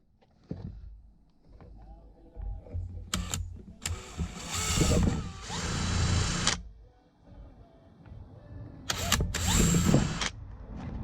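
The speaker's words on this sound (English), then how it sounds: "I'm going to drill a hole in the middle" A power drill bores a hole through a part for a ZXR 250 motorcycle, whining in two long bursts with a quieter stretch between them, heard up close over faint workshop noise.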